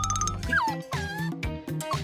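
A dog barks and yips several times in quick succession over a busy background of music and effects, the barks close and moderately loud.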